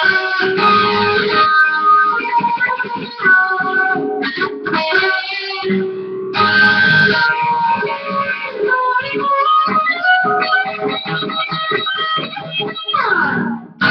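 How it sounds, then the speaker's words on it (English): An electric guitar plays a solo at full speed, with fast, bright, sustained lead notes and quick runs through effects, loud and alone without talk. "I'll just play the solo full speed"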